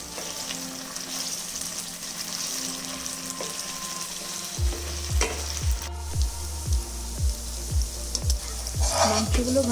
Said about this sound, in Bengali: একই তেলে মাংসগুলো ভেজে নিচ্ছি